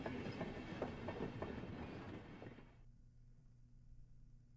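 A train rolls along with a steady clickety-clack in Higurashi When They Cry - Hou, its rattling wheels running for a few seconds before the motion cuts off, leaving a low, quiet hum.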